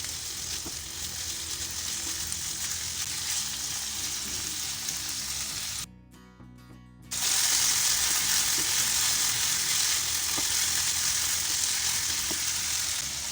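Chicken with chopped ginger frying over a medium-to-low flame, a loud, steady hiss of sizzling close by that drops out for about a second midway before resuming even louder, with faint stirring taps and no voices.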